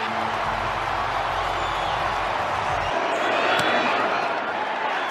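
A packed football stadium crowd roars after a San Francisco 49ers touchdown, a dense, steady wall of cheering at close range with a brief swell near the end.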